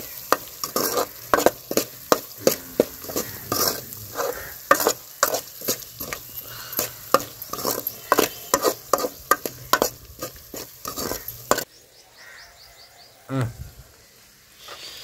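Masala-coated chicken frying in a pan: loud, close sizzling with rapid rhythmic scraping stirs of a spatula for most of the stretch, then a quieter hiss with a few faint clicks toward the end, no voices.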